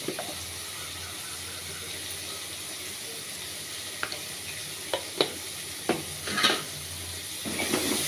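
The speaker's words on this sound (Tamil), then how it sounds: "மஞ்சத்தூள் போட்டு நல்லா வதங்கிடுச்சு ஃப்ரெண்ட்ஸ்." Carrot rice base with turmeric sautés in a pan with a low, steady sizzle, and a few scattered spoon knocks and scrapes come through more clearly toward the end, moderately quiet.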